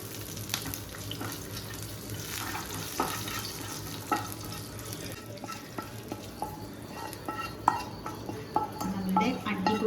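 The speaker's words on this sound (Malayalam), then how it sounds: "ചൂടായ വെളിച്ചെണ്ണയിലേക്ക് ഉലുവ കടുക് വട്ടൽമുളക് ഒന്ന് ഇളക്കിയതിന് ശേഷം കറിയിലേക്ക് ചേർക്കാം" Fenugreek, mustard seeds and dried chilies crackle in hot coconut oil, a busy close sizzle broken by sharp scattered pops and stirring clicks, with a running-water hiss in the background.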